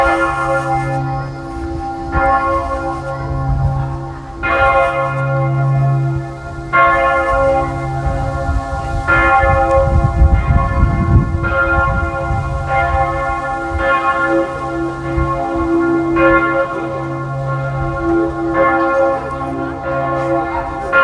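Church bells in Budapest ring out continuously in a slow, overlapping peal, loud and resonant, with a low rumble of street noise beneath.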